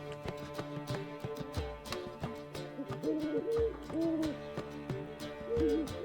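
Owl hooting in The Witcher 3, repeated low hoots rising over a dense bed of game music and ambient tones, fairly close and steady.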